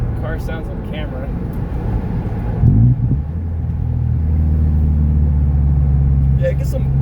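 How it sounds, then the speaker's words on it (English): A Subaru Forester's engine and exhaust rumble while driving in traffic, a close, low, steady drone that swells into a heavier throb partway through; a person talks over it at the start. "get some exhaust pops, Subaru noises."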